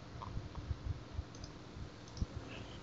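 A computer mouse clicking on an upload button in a file manager gives a few soft, quiet clicks scattered over a faint, steady background hum.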